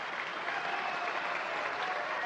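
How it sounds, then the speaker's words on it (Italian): Sustained applause from a film festival audience greeting the jury's verdict at the Venice festival, a dense, even clapping of many hands throughout, with no talk. "il pubblico accoglie con applausi e dissensi il verdetto della giuria"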